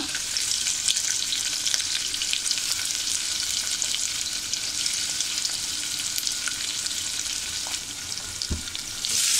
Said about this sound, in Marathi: आता हे छान आपण गुलाबी रंग येईपर्यंत आपल्याला हा कांदा असा परतून घ्यायचा आहे